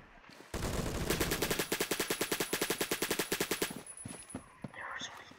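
Semi-automatic WWII-era rifle firing in Phantom Forces, a steady fast string of evenly spaced loud shots for several seconds, then tapering off into scattered quieter sounds with faint voices.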